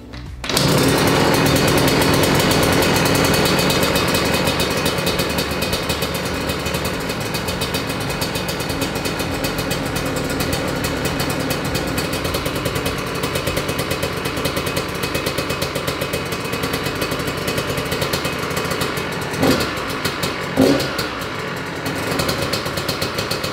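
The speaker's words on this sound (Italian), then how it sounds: "Allora, la moto è partita." A motorcycle engine runs loud and close for the whole stretch, a steady buzzing drone with a few brief blips of throttle near the end and no talking.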